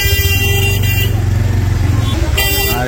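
Loud, busy traffic at a CNG auto-rickshaw stand in Saturia, with a constant engine rumble under long, blaring horn blasts that stop and then start again near the end.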